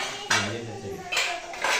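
A metal cooking pot for chicken biryani clanks down onto a gas stove, followed by a couple more metallic knocks and scrapes, close and fairly loud.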